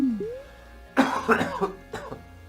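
Several harsh coughs burst out close up after a quiet start, a cluster of rough hacks followed by one more a moment later, with no talk around them.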